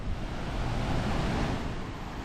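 Water rushes out of the outlet side of a dam near the Mahalsa Devi temple at Pimpalwad, Chalisgaon, forming a loud, steady, broadband roar with no breaks, heard close and alone.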